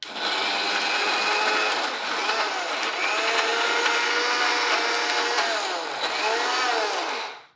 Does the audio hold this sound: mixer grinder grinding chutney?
yes